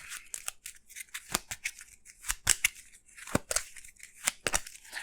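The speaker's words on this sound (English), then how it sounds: "Shuffling this up." A deck of Arkham Horror card game cards is shuffled up close, producing a rapid series of sharp riffling snaps and crisp flicks in irregular bursts, with no talk.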